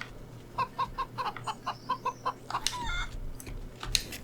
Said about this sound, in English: Oh, there's chickens.